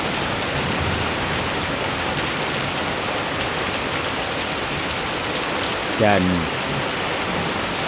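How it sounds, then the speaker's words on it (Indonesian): Heavy rain pours steadily on surfaces around Borobudur during the peak of the rainy season, a dense even hiss with no clear thunder, while a short voice cuts in briefly near the end. "hujan belum juga reda, masih disertai kilatan-kilatan petir"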